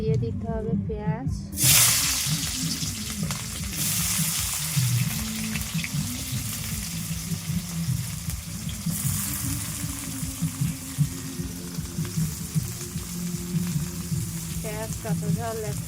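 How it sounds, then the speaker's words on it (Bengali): Onions with green chillies frying in a pan after potatoes, a steady close sizzle running throughout with occasional stirring scrapes, while a person talks over it. "পেঁয়াজটা আমার ভাজা হয়ে গেছে"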